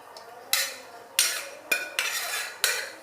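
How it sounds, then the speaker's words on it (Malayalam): A spoon scrapes and clanks against a pot as cooked chickpeas, raw banana and yam are mixed for kootu curry: five sharp, close metallic strokes, each trailing into a short scraping rustle. "ഇനി ഇതൊന്ന് നന്നായിട്ട് മിക്സ് ചെയ്തെടുക്കാം."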